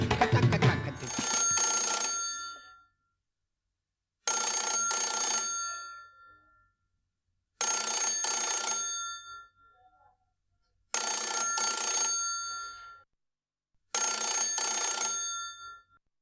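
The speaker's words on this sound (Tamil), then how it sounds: "ஏதோ டெலிஃபோன் அடிச்ச மாதிரி இருந்ததுல்ல?" A telephone rings in five evenly spaced bursts, each a bright trilling ring followed by a pause, loud and alone after a brief opening sound.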